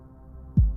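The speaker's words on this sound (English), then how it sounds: "heart pounding." A single deep heartbeat thump, used as a suspense sound effect, lands near the end after a low hum, loud and close with a quick decaying boom.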